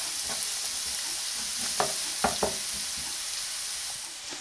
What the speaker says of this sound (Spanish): Vamos a pasar el puerro muy picadito junto con el apio.